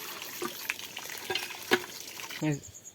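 Quiet, steady sizzle of freshly caught wetland fish frying in oil, broken by a few sharp clinks and scrapes of a utensil stirring in the pan.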